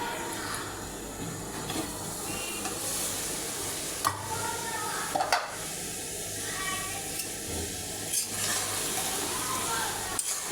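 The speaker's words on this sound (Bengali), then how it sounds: "আমি এতটুকু পানি দিয়ে ডিমটা সিদ্ধ করে নেব।" Fish roe cooks in a small amount of water in a pan for a Bengali curry, giving a steady close hiss and bubble with a few faint clinks and stirring sounds.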